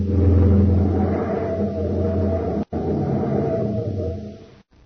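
A rocket ship in a radio drama nearly hitting a fuel tank: a loud, roaring engine whoosh that swells and fades, broken by two brief silent cuts, with no voices.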